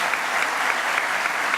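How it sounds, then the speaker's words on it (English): A large audience at the APEC CEO Summit in Lima applauds the president after a keynote address, loud dense clapping that holds steady throughout. "please give Madam President another round of applause"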